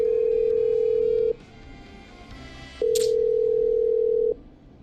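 In the video game Killer Frequency, a telephone gives two long, steady electronic tones separated by a short gap, with a brief click and hiss between them.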